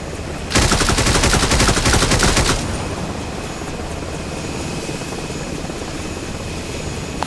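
Helicopter rotor chopping mixed with rapid machine-gun fire in the video game Dagger Directive, a loud dense burst for about two seconds, then a steady rotor drone continues alone.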